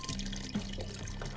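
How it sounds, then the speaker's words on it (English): Broth is poured into turkey stuffing, a soft continuous liquid trickle and splash that runs close and steady throughout. "we're going to add a little more broth to this because I know I'm going to need it"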